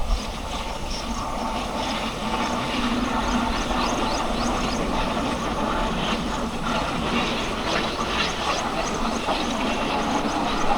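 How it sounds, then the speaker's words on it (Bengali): A train rumbles steadily along a nearby railway line, a continuous loud roll with faint clickety-clack from the wagons and no talk. "ওই যে ট্রেন যাচ্ছে গাইস"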